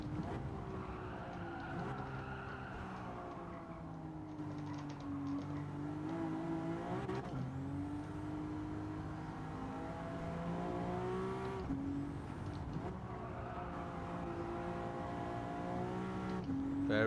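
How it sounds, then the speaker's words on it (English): Car engine revving up and down through gear changes on a time trial lap, heard from the cockpit with a continuous droning note rising in pitch as the car accelerates, occasional brief pauses between pulls. "You can just hear the engine pick up."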